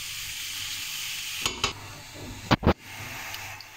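Mushrooms sizzling in a pan on the stove, a soft steady hiss broken by a few sharp scraping clatters as they are stirred, with no voices.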